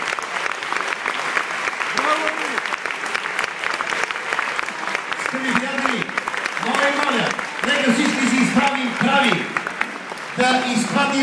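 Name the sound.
audience applause at political campaign event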